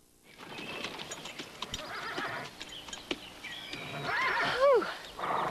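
Thoroughbred horses on a Kentucky breeding farm neigh with loud, descending whinnies near the end, over steady clip-clopping hooves and scattered knocks, with no voices.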